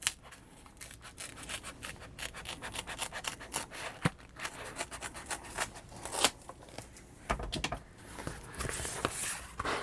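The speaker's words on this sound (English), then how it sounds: "I'll just use my scissors here to trim that" Scissors trimming excess material during an RV air conditioner adapter wiring kit installation on a 2010 Fleetwood: close, repeated snipping and rubbing cuts in an irregular rhythm, with a few sharp clicks.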